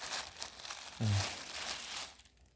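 Plastic mulch film over a garlic bed crinkles and tears as it is handled, with scattered crackling and one louder, fuller rustle near the middle.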